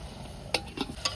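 Mutton cooks in oil with turmeric and salt, giving a quiet, soft sizzle broken by three short scraping stirs at an even pace.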